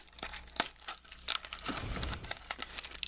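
Tape being pulled off the packaging of a plush toy, with crinkling plastic and short ripping peels close by, in uneven bursts over a few seconds and no talking.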